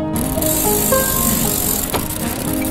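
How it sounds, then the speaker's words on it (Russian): A bicycle rolling steadily nearby, with a continuous whirring hum and light rattling, one brief sharper click midway, and no voices. "велосипед"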